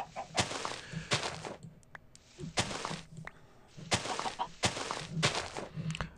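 Chickens in the video game TerraFarmaCraft cluck in quick repeated bursts, several birds close and loud with short pauses between calls.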